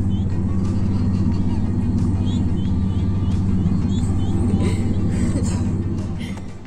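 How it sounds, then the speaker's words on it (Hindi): City traffic in Dublin makes a steady low rumble of cars and engines with a busy crowd around, loud and continuous before fading slightly at the end. "बहुत सारे लोग बहुत सारा ट्रैफिक बहुत सारी गाड़ियाँ"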